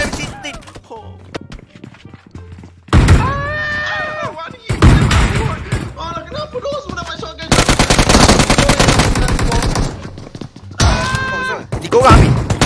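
Rapid automatic M16 rifle fire in PUBG Mobile, loud and near, coming in several sustained bursts between stretches of excited players talking over voice chat.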